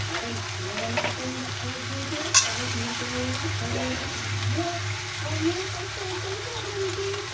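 Chicken feet sizzling in a pan while being stirred through with oyster sauce and soy sauce, a steady frying hiss with soft scraping and light bubbling, a voice speaking briefly over it.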